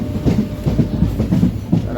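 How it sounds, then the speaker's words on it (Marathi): Onboard a train running from Jalna toward Mumbai: a steady loud rumble of carriage and wheels on rails with a rhythmic clickety-clack throughout, close and continuous. "जालन्याहून गाडी धरलेली आहे पुढे मुंबईपर्यंत"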